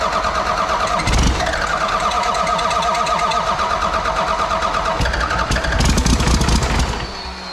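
Cummins diesel engine in a 1979 Ford truck, with hot timing and excess fuel, cranking in a fast steady chug that catches into loud rough running, close up and alone.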